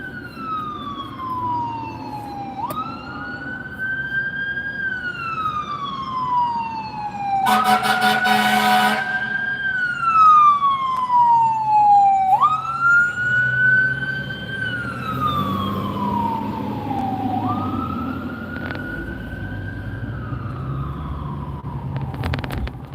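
A fire truck siren wails in long rising and falling sweeps, loud and close, with a brief horn blast and engine rumble underneath.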